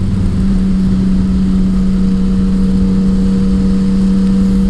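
Steady engine drone of a Yamaha Tracer 900 motorcycle with a Healtech quick shifter, a constant mid-pitched hum with no clear individual shift clicks standing out.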